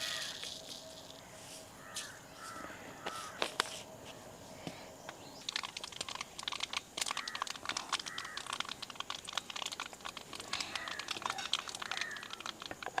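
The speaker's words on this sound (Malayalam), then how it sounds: "ഇനി എണ്ണ ചൂടായ നമുക്ക് ഇച്ചിരി കടുക് ഇട്ട് കൊടുക്കാം." Mustard seeds crackle and splutter in hot oil in a pan, a dense run of quick sharp pops that grows busier and louder partway through, close up with no talk.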